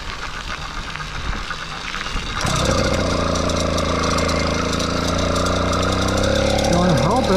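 An 80cc engine on a 29-inch mountain bike catches while being pedaled and clutched, its steady loud buzzing drone rising and running continuously after a softer stretch of pedaling and road noise.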